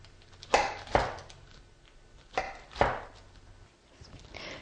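A serrated knife cuts through a baked Greek biscotti loaf, giving four sharp, crunchy strokes arranged in two pairs, close up and distinct against a quiet room.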